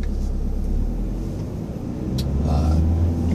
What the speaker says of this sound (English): You can cruise nice and steadily at a low RPM without having to really downshift.